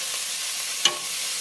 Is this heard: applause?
no